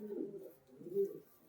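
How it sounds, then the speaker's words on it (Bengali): Pigeons of the Kaldumma and Sakdumma Giribaz breeds cooing close by, two soft low rounded bursts in a row with a short gap between them. "আমি পায়রার ডাক দেখিয়ে দেবো"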